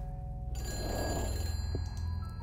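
An old-style telephone bell rings in the horror game Fright, a steady electronic ring starting after a quiet half second and sounding clearly over a low ambient hum.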